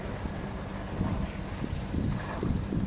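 A sailboat motoring under engine power through the night, its low engine rumble under steady wind buffeting and irregular water sloshing against the hull, with no voices.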